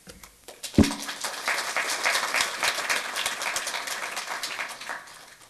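A burst of audience applause at a city council meeting, many hands clapping steadily for several seconds after a sharp thump, then tapering off.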